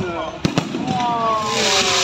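Two sharp fireworks bangs close together, followed by a crackling rumble, with excited voices calling out over the noise.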